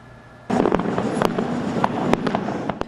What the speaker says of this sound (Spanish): varias ciudades festejaron con espectáculos de fuegos artificiales